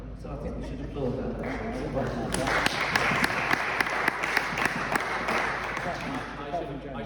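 Applause from a conference audience at a panel discussion on devolution, a dense steady patter of many hands building up and holding at moderate loudness, with talk mixed in underneath.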